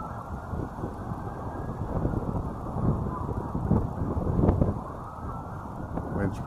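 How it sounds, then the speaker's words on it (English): Wind buffets the built-in microphone of a gimbal camera outdoors in a Florida cemetery, making a continuous low rumbling roar that swells and fades in gusts over the whole stretch. "Wind's picking up."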